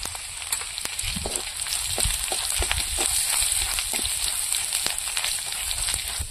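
Panch phoron with dried red chilli, chopped ginger and bay leaf frying in hot oil, giving a steady loud sizzle with scattered sharp crackles and pops throughout, no voices.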